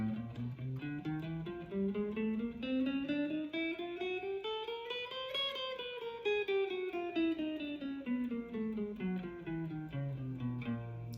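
An electric guitar plays a fast, even alternate-picked run of notes climbing steadily up in pitch and then descending back down, played alone.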